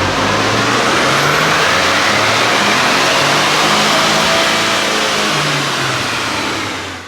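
A tuned 2022 Ford Expedition roars on a dyno, its engine held at a loud, sustained high rev for several seconds before easing off at the end.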